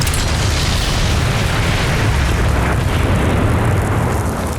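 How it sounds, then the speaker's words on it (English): A loud, rumbling explosion roar fills the whole clip, dense and sustained with heavy low-end boom and crackling debris. "Cue the explosion."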